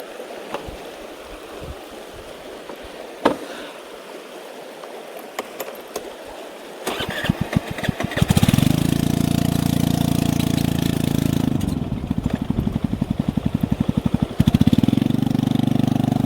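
A scooter on a pilgrimage route to Neelkanth Mahadev crosses stream water. The quiet flowing water gives way to the engine revving up, then a loud steady motor drone with churning splashing, briefly easing before surging again.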